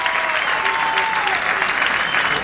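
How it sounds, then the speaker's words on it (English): A bowling tournament crowd applauding for a bowler, a loud, steady burst of many hands clapping together. Faint commentary runs underneath. "a good round of applause for him"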